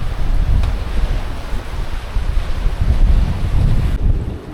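Strong wind of 26 to 30 knots buffeting a boat at anchor in a bay in the Dodecanese, Greece, a steady loud roar of gusts and rushing water with wind rumble on the microphone, no voices.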